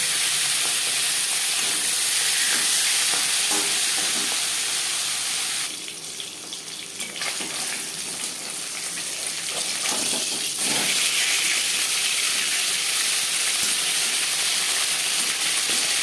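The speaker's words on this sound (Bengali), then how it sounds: "চার চামচ রিফাইন্ড অয়েল গরম করে নিয়েছি দিয়ে দিলাম মাছের মাথা ও মাছ" Rohu fish head and pieces fry in hot refined oil in a pan, giving a loud, steady, hissing sizzle throughout, with a brief drop partway through before the hiss returns at full strength.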